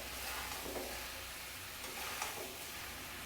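Fried potato and papaya pieces hit a pan of hot oil for vegetarian navratan korma, giving a close, continuous hissing sizzle with faint stirring scrapes and no voices.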